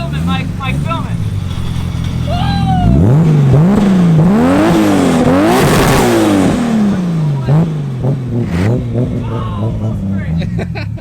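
An off-road Nissan R32 GTR revs hard, its engine and exhaust climbing and falling through several loud, close, rising and dropping sweeps, with people talking and shouting over it.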